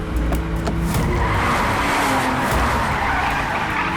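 A car skids hard during a chase in a dubbed South Indian action film, its tires squealing loudly and continuously over engine roar for several seconds, close and dominant with no talk.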